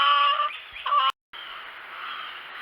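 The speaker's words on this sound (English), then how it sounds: "You can hear the other chickens are wondering where Daddy is with their food." A flock of fowl clucks and chatters continuously nearby, a dense overlapping chorus of bird calls with a brief cut in the middle.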